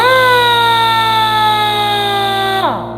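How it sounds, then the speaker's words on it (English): A Viair 400C 12-volt air compressor motor whines steadily with a strong tonal hum, then winds down in pitch as it shuts off near the end. "The compressor's kicked in"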